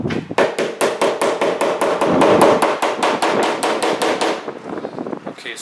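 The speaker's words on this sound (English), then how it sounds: "I'm going to use our mallet to hammer it in." Mallet hammering a part into a groove on an MK4 arcade cabinet: a steady run of about twenty sharp, loud, close blows at an even rhythm, then a few softer taps at the end.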